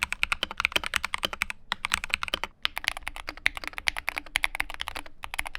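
Fast, steady typing on an Alienware Pro mechanical gaming keyboard, dense clacky keystrokes with brief pauses, close and loud, no voices.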